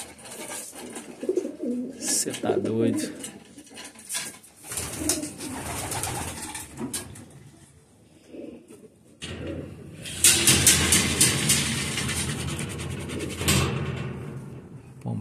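Homing pigeons coo in a loft, with soft repeated calls and wing flutters and scuffles at close range amid a busy background, while someone talks over them.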